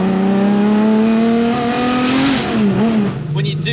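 A straight-piped Ferrari F50 V12 holds a loud, steady howl, then downshifts with a sharp throttle blip, the pitch dipping and rising before settling, close and continuous throughout.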